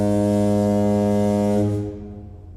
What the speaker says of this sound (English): That sounds like a foghorn from a ship, doesn't it?